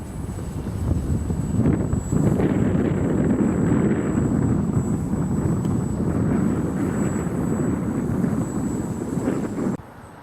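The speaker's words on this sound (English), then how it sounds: "The wind is just tossing it around. It's just buffeting it." A ParkZone F4U Corsair RC model plane flies on a windy winter day, its electric motor a continuous whine beneath heavy rumbling wind buffeting, steady for several seconds before cutting off abruptly near the end.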